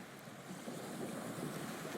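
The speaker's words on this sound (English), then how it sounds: "The ferry engines slow because it is coming in to port." A ferry coming into an island port churns across the water with a soft, steady rumble and wash of waves, heard faintly and continuously with no voices.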